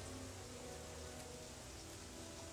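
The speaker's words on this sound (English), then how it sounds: "Oh god, it started raining harder." Heavy rain in the video game Don't Starve Together makes a faint, steady hiss of dense falling drops, continuous and even throughout, with no voices.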